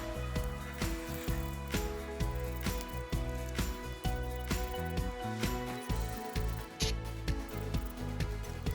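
Bolts being loosened from a hydraulic line on a John Deere 1025R tractor, with rapid repeated ratchet clicking in bursts, close and fairly loud.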